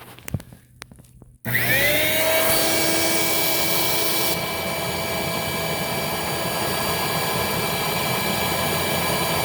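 A Tornado Piranha 67218 vacuum cleaner switches on after a moment of quiet and runs with a loud, steady whine and rushing airflow, holding a constant drone to the end.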